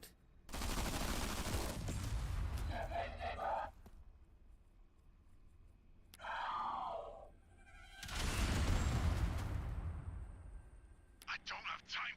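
Gunfire in the video game Zephon rattles in rapid bursts of shots, loud and close, separated by quieter gaps and brief speech-like sounds.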